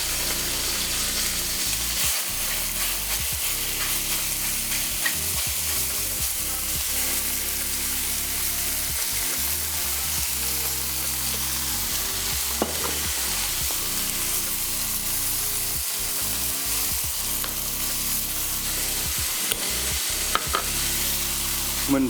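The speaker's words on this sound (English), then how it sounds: "Cooking over a wok is also just extremely exciting." Continuous loud sizzling and crackling of food stir-fried in a hot wok, with steady hissing and repeated scraping and tossing sounds close up, and no voices.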